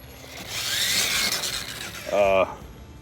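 Tekin RX4 ESC in an Axial Creep6 RC crawler rolling downhill, a fine whine and grinding drivetrain rasp swelling through the middle, then a short pulsing motor buzz near the end, close up with no talk.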